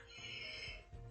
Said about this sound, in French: excusez-moi pour tousser, je suis un petit peu malade